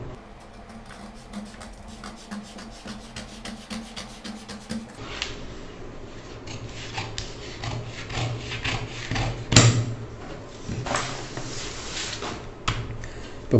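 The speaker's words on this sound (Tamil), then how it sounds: "நான் வந்து இது கரெக்டாக இந்த மார்க்கிங்லேயே கட் பண்ணிக்கிறேன்." Scissors cut a blouse sleeve along a chalk marking, giving repeated close rasping snips and fabric rubbing. The cuts come in an uneven run with one sharp louder click partway through and no voice over them.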